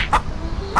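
A wild chicken clucking, two short close clucks separated by a brief pause.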